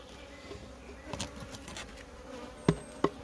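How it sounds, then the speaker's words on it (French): Honeybees hum faintly around an open hive frame with sealed brood, a low steady drone with a couple of sharp knocks near the end. "Il y a déjà plus d'abeilles que la dernière fois."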